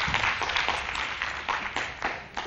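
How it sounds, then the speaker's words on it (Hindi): An audience claps to welcome a guest at a stage play, dense steady applause from a crowd, no voices over it. "जोरदार तालियों के साथ स्वागत कीजिए ठाकुर रतन सिंह जी का।"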